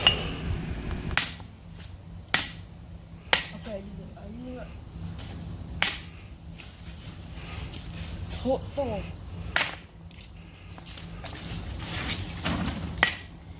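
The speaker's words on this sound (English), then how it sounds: "Once we finished with smashing the rocks" Sharp hammer strikes crack out one at a time at irregular intervals, about ten blows smashing river rocks, against quiet outdoor background with faint chirps.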